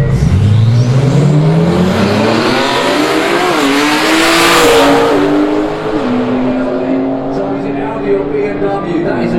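Street cars drag racing on a track in England, with loud engines revving up through rising gear pulls and shifts, a close roaring pass under crowd noise and commentary.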